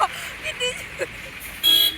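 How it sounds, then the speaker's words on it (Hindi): Busy road traffic through a market, with short car horn toots scattered among engine noise and a longer louder honk near the end, while a voice talks over it. "अभी देखो कितना ट्रैफिक है इधर।"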